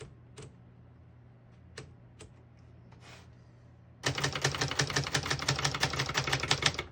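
Rapid, steady keystrokes on a 1966 Brother Webster XL-500 portable typewriter, loud and close, burst in after a few scattered isolated clacks.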